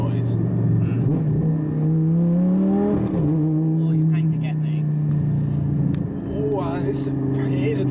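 A Lamborghini engine drones loudly and steadily throughout, rising in pitch partway through as it revs, with people talking over the noise.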